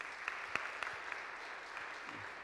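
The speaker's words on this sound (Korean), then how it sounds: "우리 세션들에게 감사의 박수를 보내주시면 감사하겠습니다" A church congregation applauds at a Thursday praise worship service, a steady patter of many hands clapping at a moderate distance with a few sharper claps standing out.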